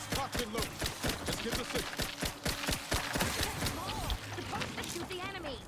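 Rapid bursts of gunfire aimed at enemies in The Outer Worlds 2 on PS5, a dense run of sharp close shots with brief gaps, mechanical clicks and chirpy game effects mixed in.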